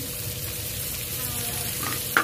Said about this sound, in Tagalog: Tapos itong butter, ilagay natin ating ahos at saka itong sibuyas.